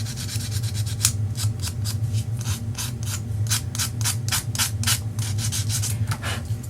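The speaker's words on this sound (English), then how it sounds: "Hold them like with your other hand when you are sanding them." Steady rhythmic rasping of sandpaper rubbed back and forth on small wooden leaves, close up, with no talking.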